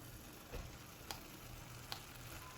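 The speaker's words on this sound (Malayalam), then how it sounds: "ഇതിവിടെ കുറുകി വരുന്നുണ്ട്. കൈവെക്കാതെ ഇളക്കിയെടുക്കണം." A banana and rice flour batter thickening in a pan for kinnathappam gives a steady low sizzle with a few soft scrapes of stirring, no voices over it.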